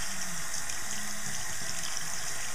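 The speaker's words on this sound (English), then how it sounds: "Rinse it, make sure you get all the conditioner out, and then just kind of squeeze out all the excess water" Tap water runs steadily to rinse conditioner out of a makeup brush at a sink, a continuous close splashing flow with no talking.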